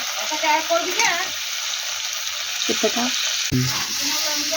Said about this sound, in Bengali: আলুটা সব ফেলে দিলাম, এবার নেড়ে দিচ্ছি।